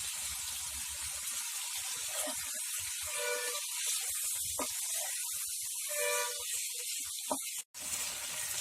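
Mutton frying on high flame in a pot, a steady hissing sizzle with brief bursts of spatter and a sharp knock near the end, close and moderately loud, no voices.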